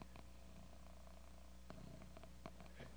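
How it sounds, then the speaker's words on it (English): A cat purrs loudly and steadily, up close in a quiet room, a continuous low rumble with a few faint scattered clicks and rustles. "He purrs loud."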